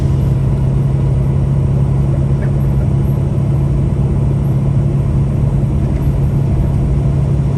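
A parked truck's diesel engine runs steadily on a Pennsylvania roadside, a loud, even low rumble that holds without change and without talk.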